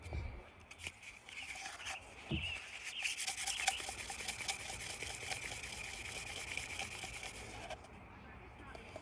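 Steady close rubbing of hand polishing, a continuous whooshing friction with faint rhythmic strokes, after a couple of light knocks at the start.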